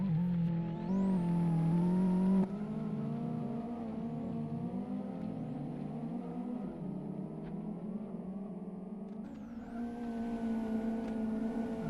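Race car engine drones steadily and loudly in the Live for Speed rallycross video game, with shifting revs and a sharp drop in pitch early on as the car enters the joker lap, continuing near and alone.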